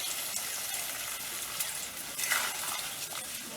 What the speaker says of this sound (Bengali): অল্প করে জল দিয়ে দিলাম মাংসগুলো একটু যেন সেদ্ধ হওয়ার জন্য